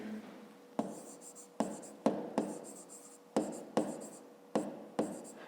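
A pen writing by hand on paper while working a fifth-grade maths exercise: quiet, close scratching strokes in about ten short bursts, each starting with a sharp tap and trailing off, with brief pauses between.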